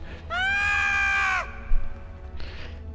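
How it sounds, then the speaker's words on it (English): A Ferengi alien screams in the Star Trek Online video game, a loud shrill wavering cry held for about a second, followed by a brief bump and a shorter fainter cry at the end. "that is definitely a Ferengi scream"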